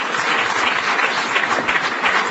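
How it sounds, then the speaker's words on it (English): A lecture audience bursts into brief, dense applause, a loud continuous patter of many hands clapping at once that stays steady throughout. "You don't need to clap"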